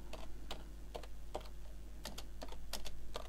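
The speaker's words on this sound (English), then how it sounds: "Simple use of your keyboard." Quiet clicks of typing on a computer keyboard, irregular keystrokes spaced out, then a quicker cluster, over a steady electrical hum.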